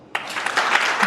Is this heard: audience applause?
yes